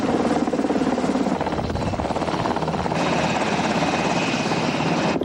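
A Government Flying Service rescue helicopter thrums loud and steady, its rotor chop and engine whine continuous and close throughout.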